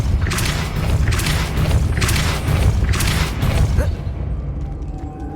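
Repeated spell casts in the Hogwarts Legacy video game: four loud whooshing bursts with deep booming thuds, roughly one per second, over a constant low rumble, then fading into quiet ambience.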